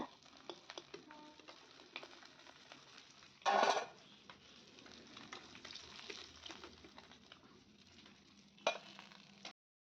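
Rohu fish, washed and rubbed with salt and turmeric, fries quietly in oil with a soft crackling sizzle and light pops, interrupted by one loud burst partway through and a sharper clatter near the end.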